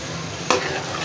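Onion paste fries in a pan for creamy macaroni, giving a low steady sizzle, then one short scrape of stirring partway through, close by with no talk.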